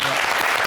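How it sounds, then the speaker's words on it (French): Audience applause at a live French-language talk show, a dense burst of clapping filling the whole short moment, loud and close. "j'aimerais d'abord qu'on acclame Madame Vidéo"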